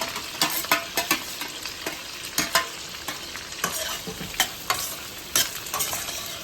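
Onion, green chilli and curry leaves are stirred in hot oil in a pan, a spoon scraping in quick irregular strokes over a steady close sizzle, with no voices.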